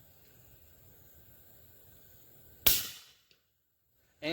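One suppressed shot from a Ruger American Ranch 300 Blackout rifle loaded with subsonic Fiocchi 220-grain ammunition: a sudden loud crack over a quiet outdoor hiss, then a brief tail and a faint click.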